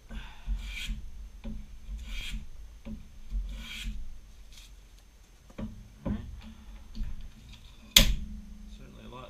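A wooden foundry pattern for an angle plate hand-filed with a rasp, several rhythmic rasping strokes at close range with short pauses between them and a few sharp clicks.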